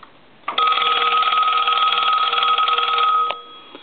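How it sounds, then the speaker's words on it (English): A loud mechanical bell in a Western Electric payphone rings in one continuous burst of about three seconds, then stops abruptly. "We'll ring the bell one last time."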